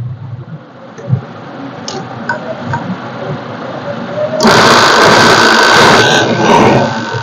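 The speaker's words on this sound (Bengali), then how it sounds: "চেনের উল্টো দিকে সেলাই হবে" Sewing machine stitching a zipper onto pyjamas, starting with faint ticks and handling clicks, then breaking into a loud, dense, continuous whirring run of stitching for the final few seconds.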